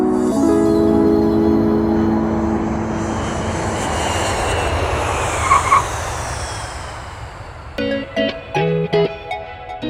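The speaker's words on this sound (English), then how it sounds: "what do you say we geek out over aviation together and fly a 172 across the country?" A Cessna 172 light airplane drones steadily through its engine and propeller in flight, a broad continuous roar that holds for the whole span, with a brief burst of tonal sound near the end.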